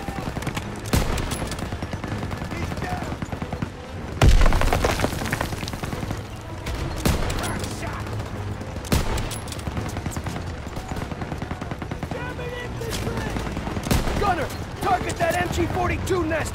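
MG-42 machine guns in Call of Duty: WWII fire sustained rattling bursts across a battlefield, with heavy booms and shouting soldiers layered over the gunfire throughout.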